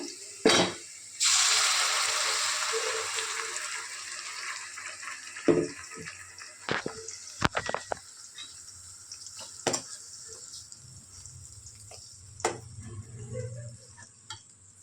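Curry leaves and masala frying in a pan for village-style tamarind fish curry: a loud sizzle bursts up at first, then settles into a steady low fry broken by sharp scrapes and taps of stirring.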